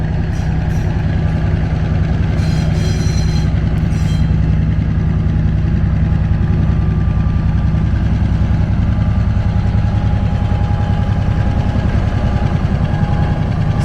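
A diesel freight locomotive with an EMD engine idles steadily while moving freight cars, a loud, deep, constant throb that carries on unchanged for the whole stretch, with a few faint higher clanks early on.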